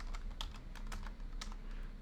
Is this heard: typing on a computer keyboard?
yes